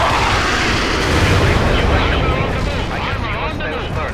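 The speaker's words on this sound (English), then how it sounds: "Anti-tank strike is inbound." An anti-tank strike in World in Conflict, a loud sustained rumble of explosions and artillery fire rolling through the battlefield for several seconds, with radio voices mixed in.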